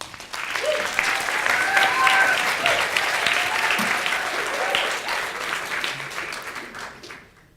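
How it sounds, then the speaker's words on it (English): Sustained applause from a crowd, steady clapping that swells and then fades away toward the end. "Please give a warm round of applause for Luke McGuinness."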